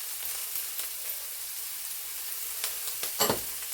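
Swiss chard and jalapeno peppers sizzle in a hot cast iron skillet with a steady, close frying hiss. A few sharp utensil clatters come near the end.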